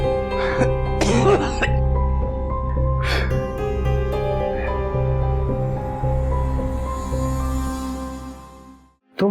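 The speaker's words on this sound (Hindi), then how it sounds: "बहुत ज्यादा खांसी हो रही है" A person in a drama scene gives a few harsh coughs and throat clears, close and loud, over a sustained musical score that fills the background.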